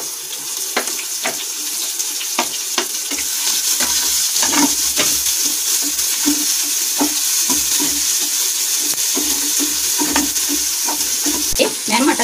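Onion frying in oil for a matar samosa filling, a loud continuous hissing sizzle close up, broken by repeated spoon scrapes and knocks against the pan, with no talking.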